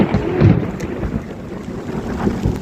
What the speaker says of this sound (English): You heard how soon that thunder came after that lightning